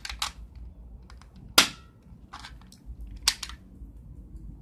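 A cheap toy BB gun bought from an ice cream truck fires, giving a few sharp, close snapping clicks spaced apart, with small handling clicks and quiet room noise between the shots.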